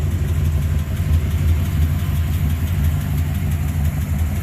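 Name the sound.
car engine idling with exhaust leak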